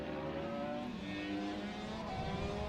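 Superminis mini bikes race down the back straight, engines droning and whining together in a continuous buzz, pitches shifting as riders change gear at a distance.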